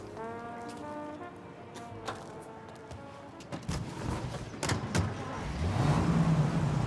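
Car engine in the Mafia Definitive Edition video game, humming and revving steadily at close range with some faint thuds and a rising tone near the end, no talk over it.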